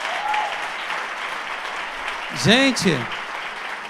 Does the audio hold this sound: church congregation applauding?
yes